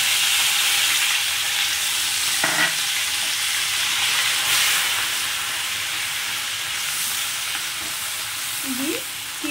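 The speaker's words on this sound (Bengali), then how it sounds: "এবার আমি এর মধ্যে ঘষে রাখা পেঁয়াজটা দিয়ে দিলাম।" Grated onion sizzles steadily in hot oil with cracked cardamom, a loud, continuous frying hiss with a couple of faint stirring clatters and no talking.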